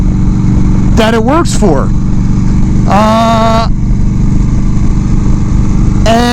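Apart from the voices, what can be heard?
1996 Evo Low Rider motorcycle engine running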